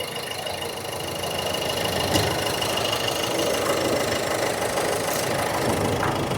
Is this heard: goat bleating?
no